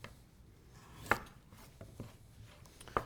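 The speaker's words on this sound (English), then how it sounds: "So what we'll do here is we'll just take some slices of the kohlrabi." A knife slices through peeled kohlrabi root in a quiet kitchen, giving two crisp, distinct cuts about two seconds apart with a few softer taps between them.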